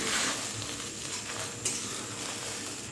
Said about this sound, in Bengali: এখন কিন্তু অবশ্যই গ্যাসের ফ্লেমটা একদম লোতে রেখে এই ডিমটা ভেজে নিতে হবে